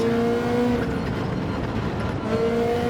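A Ferrari 458 Italia races in a video game, its engine holding a steady high droning whine with a slight pitch shift, loud and continuous throughout without any break.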